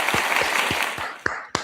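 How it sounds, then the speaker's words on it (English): Applause sound effect played on a talk show, a dense burst of clapping that thins into a few sharp separate claps at the end. "It's not often I get to give Donald Trump a round of applause."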